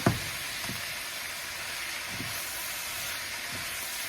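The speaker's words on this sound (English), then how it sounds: "onions and peppers cook down." Onions and peppers cook down in a pan, giving a steady close hiss of sizzling oil with a few soft knocks. The sound stays even and moderately quiet throughout, with no speech.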